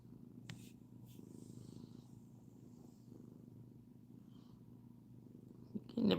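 A ten-year-old female rescue cat purrs steadily and close up, a soft continuous rumble that holds throughout with no talking.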